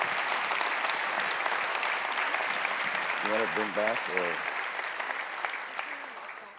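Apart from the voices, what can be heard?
audience applause for speakers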